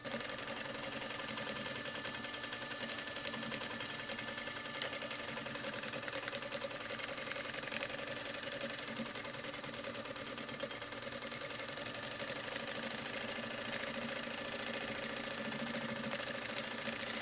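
A sewing machine stitches across fabric in a multimedia artist's studio, a steady close mechanical whir with fast rhythmic needle ticking that holds constant and alone for the whole stretch.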